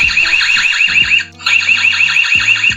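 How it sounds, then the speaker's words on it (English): A loud electronic alarm siren from an EZVIZ EL3 smart home device warbles rapidly and continuously, cutting out briefly before resuming, with faint low tones and clunks underneath. "a flashing light if someone was triggering an alarm with quite a loud siren"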